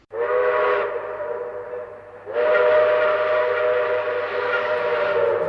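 A loud, close train whistle sounds two long, sustained blasts, the first short and the second held to the end, opening a commercial for model trains; no voices are heard.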